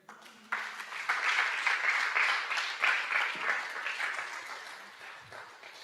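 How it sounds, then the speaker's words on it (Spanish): Applause during a Sunday church service, faint at first then swelling into steady clapping from the congregation before thinning out toward the end. "podemos darle palmas al rey"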